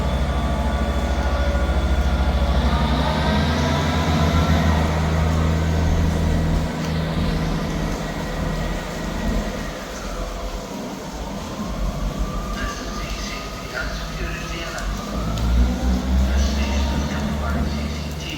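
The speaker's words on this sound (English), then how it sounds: "Departing out now is the 1440 Scotrail service starting here at Dundee to Edinburgh Waverley." A Scotrail passenger train to Edinburgh Waverley rumbles loudly out of Dundee station, its heavy low drone shifting as it pulls away, with wheel squeal and a rising whine.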